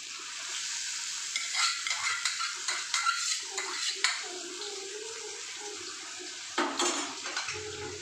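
Boiled whole moong and chana dal pour into a pan of spices, sizzling and hissing against the hot oil while a spoon clinks and scrapes the pan in scattered strokes.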